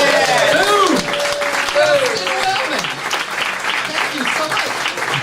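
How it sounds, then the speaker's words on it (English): An audience at a live comedy show applauds loudly after a magic trick, a thick, continuous wash of clapping with a voice speaking over it. "Fling open the napkin and receive your well-deserved applause."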